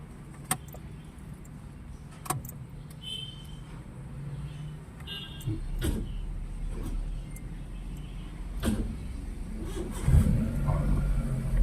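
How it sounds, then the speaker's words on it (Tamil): A car engine cranks and catches during a driving lesson, with small clicks and key-like jangles before a low engine rumble builds and rises near the end, close by with no talk over it. "சரி, வண்டியை ஸ்டார்ட் பண்ணுங்கள்."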